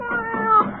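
A cat gives one short, plaintive meow at night, rising and falling in a single drawn-out cry that is clear and close.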